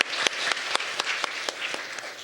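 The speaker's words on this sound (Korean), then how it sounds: "박수 부탁드립니다" Audience applause at an education symposium in Jeju, a steady wash of many hands clapping with no talk, moderate and fairly close, running the whole short stretch.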